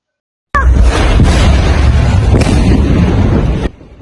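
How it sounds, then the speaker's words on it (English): Loud, sustained explosion blast from a severe accident: a sudden broadband roar erupts and holds for about three seconds, then cuts off to a quieter rumbling tail. "The deafening blast sent shockwaves through the neighborhood"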